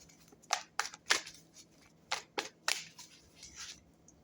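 Tarot cards are shuffled in several quick crisp riffling bursts, close and fairly soft, with brief pauses between them and no talking.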